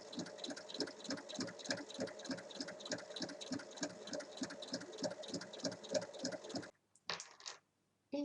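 A sewing machine stitches around the folded edge of an origami fabric bag, a close rapid rhythmic chatter that runs steadily and then stops, followed by a couple of short bursts of stitching.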